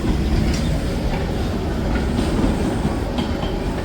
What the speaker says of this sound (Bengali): সরাইঘাট এক্সপ্রেস শান্টিং হচ্ছে।